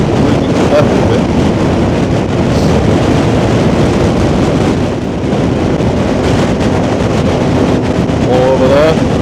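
Strong wind roars across the microphone on an outdoor coastal ride near the Humber, a loud, constant buffeting rush that fills the whole stretch with little change.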